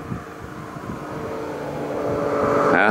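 A moped engine passes a cyclist out on a summer road, its motor hum rising steadily and growing louder and closer toward the end over wind noise, with no talking.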